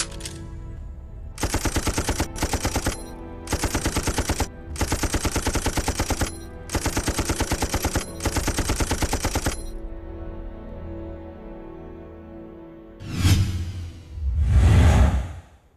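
Rifle and machine-gun fire in a Chinese war film about a sharpshooter fighting Japanese troops: loud repeated rapid bursts of automatic fire with short pauses between them, then fading rumble and two whooshing blasts near the end.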